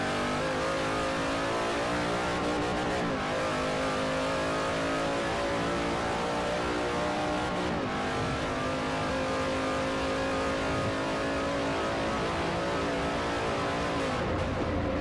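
A V8 Supercar engine in Forza Motorsport 4 drones and revs steadily and loudly, pitch rising through gears with brief shift dips, with no talking.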